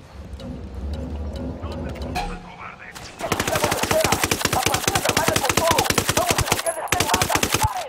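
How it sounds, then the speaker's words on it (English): Rebels and cartel trade gunfire in Ghost Recon Wildlands: scattered distant shots and voices at first, then a sudden sustained burst of rapid machine-gun fire, loud and rhythmic, continuing for several seconds. "Got some rebels training shots with the cartel."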